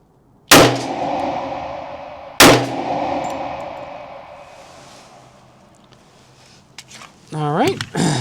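A Smith & Wesson M&P 10mm Carry Comp pistol fires two loud, close shots about two seconds apart at an outdoor range, each ringing out and decaying, followed by a voice talking.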